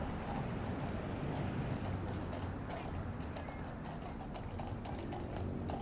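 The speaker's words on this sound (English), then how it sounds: "Now this horse and carriage is going towards Wellington Arch." Steady clip-clop of carriage horses' hooves on a hard street near Buckingham Palace Gardens and Wellington Arch, London, mixed with constant traffic and city background noise.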